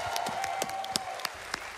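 A live speedrunning event crowd applauds, a dense steady patter of clapping with a few sharp louder claps standing out, moderately loud and continuous, with faint voices mixed in.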